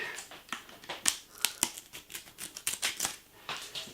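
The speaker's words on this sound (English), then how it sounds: "We got a sealed chocolate bar. Very sealed chocolate bar. Get a pair of scissors." A pair of scissors cuts into the sealed wrapper of a plain dark chocolate bar. Close, quiet snips and crisp crinkles come in an irregular series of sharp clicks over four seconds, with no talking.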